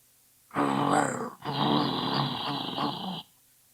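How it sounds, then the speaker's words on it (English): A dragon's deep, rumbling snore-like growl in two long breaths, close and loud, with a throaty rasp, then silence, in the depths of a cave. "It sounds as if the dragon is getting hungry or has fallen asleep and is snoring."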